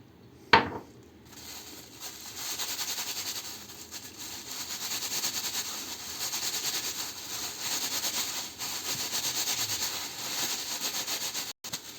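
After a sharp clink against a dish, a utensil stirring salt and dish detergent scrapes and swirls steadily for several seconds in a continuous gritty rhythm, close and fairly loud.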